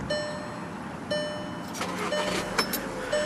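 A 2011 Volkswagen Tiguan 2.0T SE 4Motion: a starter whir, then the engine catches into a steady idle, heard close inside the car amid faint clicks and a brief electronic chime.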